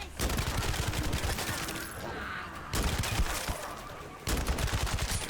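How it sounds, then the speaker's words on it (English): Shotgun fire from the video game The First Descendant, with dense rapid blasts and impacts in bursts that are broken by two short lulls, loud and continuous otherwise. "we're just gonna have to shoot at this thing forever"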